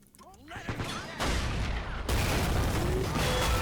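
A video game battle erupts with rapid gunfire bursts and booming shots layered into a dense, continuous barrage of war sounds, growing louder after the opening moments.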